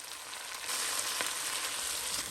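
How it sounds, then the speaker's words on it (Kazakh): Vegetables fry with tomato paste in a pan for lagman, giving a continuous close hiss and sizzle that swells slightly partway through, with no talking. "көкөністеріміздің үстіне томат пастасын қоса отырып, жақсылап қуырып алатын боламыз"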